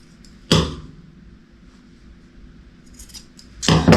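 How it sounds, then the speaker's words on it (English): Two sharp scissor snips, one near the start and one near the end, trimming the corners of fabric for a placemat, close and crisp with quiet rustling between. "trimming the little corners here"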